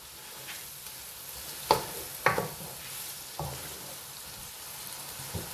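Minced meat keema sizzles and fries in oil in a pan, a steady close crackle broken by a few sharp scraping stirs of a spoon, with no talking.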